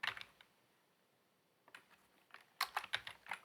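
Computer keyboard typing in short bursts of key clicks, a quick cluster at the start, then a pause, then two more irregular bursts of tapping, fairly close and moderately quiet with no talking.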